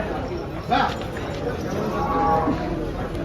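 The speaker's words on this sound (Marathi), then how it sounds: "गाय बघा मित्रांनो तुम्ही एकच नंबरची क्वालिटीची गाय आणलेली आहे" A cow lows at a busy cattle market where Holstein Friesian and Jersey cows are sold, with livestock noise all around as people talk nearby.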